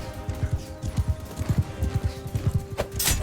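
Horse hooves gallop in Mount & Blade II: Bannerlord, a fast, rhythmic clip-clop of close, steady beats, with a brief sharp burst near the end.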